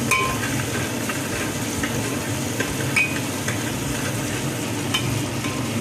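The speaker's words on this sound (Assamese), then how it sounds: "এইটো 2-3 মিনিটমান ফ্ৰাই কৰিব লাগিব" Khichdi ingredients fry in a pan with a dense, steady crackling sizzle and occasional stirring clinks, close and fairly loud, without speech.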